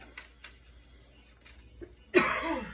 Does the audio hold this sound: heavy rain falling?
no